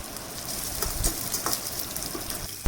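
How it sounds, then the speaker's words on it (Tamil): Green chilies, dried red chilies, ginger and curry leaves sizzle and crackle in hot oil in a pan while being stirred, a steady close frying hiss with small pops throughout and no talking. "பச்சை மிளகாய், காஞ்ச மிளகாய், இஞ்சி, கறிவேப்பிலை இது எல்லாத்தையும் போட்டு நல்லா வதக்கிடலாம்."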